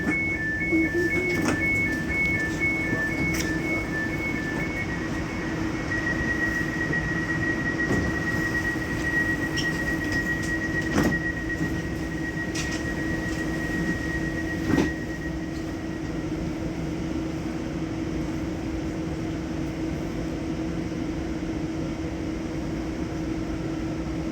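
A CAF Urbos 100X tram on line T3 runs with a steady low rolling rumble and motor hum throughout, with a sustained tonal whine and occasional sharp clicks and clunks from the track.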